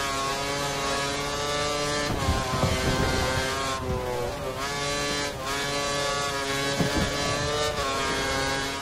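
A Formula 1 car engine from the F1 2013 racing game during the Malaysian Grand Prix screams continuously at high revs, loud and close, with repeated dips and surges as gears shift over nearly nine seconds.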